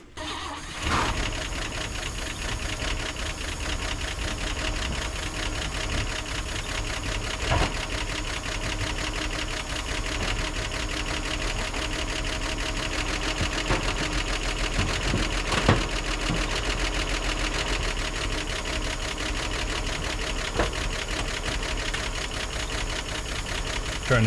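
Engine of a 1957 Chevy running on a strapped-up fuel can, a steady, fairly loud mechanical idle with fast rhythmic ticking and clatter, starting abruptly and holding evenly throughout with no talk.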